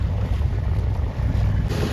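A boat moves on the sea with a continuous low rumble of engine and wind buffeting the microphone, steady and loud, with water wash beneath and no voices.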